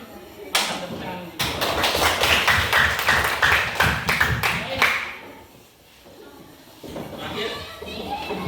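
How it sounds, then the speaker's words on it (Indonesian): Students in a classroom at an Islamic boarding school clap their hands together in quick rhythmic bursts for several seconds, loud and close. The clapping then stops, and children's voices and shuffling follow. "Mantap, tepuk tangan."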